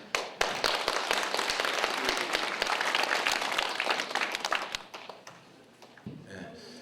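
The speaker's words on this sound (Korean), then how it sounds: "다시 한번 감사 박수 좀 쳐주시죠." An indoor meeting audience gives a round of thankful applause, sharp close claps and a dense patter that hold steady and then fade away, ending with a brief rustle and murmur.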